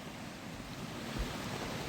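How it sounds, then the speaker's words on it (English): The Sawmill Creek waterfall heard from a trail as a steady, broad rushing roar, continuous and fairly even throughout, with no voices. "I don't know if you guys can hear the waterfalls from here"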